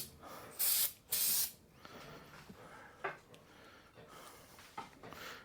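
Two loud, sharp bursts of spray paint hiss close by while a custom coupler for a John Deere 210L backhoe is painted, followed by quieter shorter spritzes and faint handling noises.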